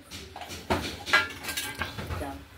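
Lid set on a pot of radish curry: a few clattering metal knocks and clinks of pot and lid in quick succession, fairly close but moderate in level, with faint room noise between.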